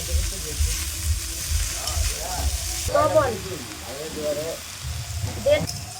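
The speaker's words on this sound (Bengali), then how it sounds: "এবার নেড়ে চেড়ে যতক্ষণ না পর্যন্ত ভালোভাবে ভাজা ভাজা হয় ঠিক ততক্ষণ ভেজে নেব" Fenugreek leaves sizzle and crackle steadily in a hot, oily pan while being stirred, with a voice talking intermittently over the frying.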